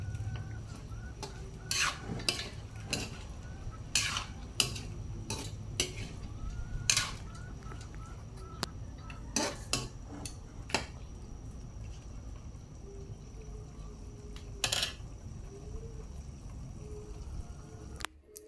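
A utensil clatters and scrapes against a pan in irregular bursts while pork with carrots and potatoes is stirred, with a soft sizzle underneath.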